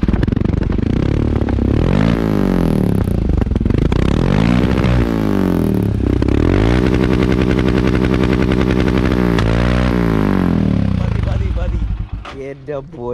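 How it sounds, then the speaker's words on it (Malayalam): A modified Royal Enfield Himalayan rally motorcycle built for off-road riding revs loudly and close, its exhaust rising and falling in pitch through repeated throttle blips before settling near the end. "ജസ്റ്റ് എക്സോസ്റ്റ് കേൾപ്പിച്ചെന്നാൽ മതി."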